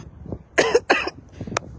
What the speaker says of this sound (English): I'm so sorry that I'm coughing now.